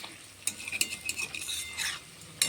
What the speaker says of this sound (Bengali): এই যে সুন্দরভাবে লাল লাল হয়ে ভাজা হয়ে দিচ্ছে